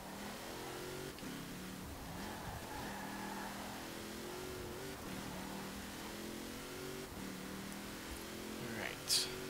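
A 2010 Rossion Q1 drifts in Forza Horizon 4, its engine revving and droning steadily at mid volume while a voice talks over it, with a brief sharp peak near the end.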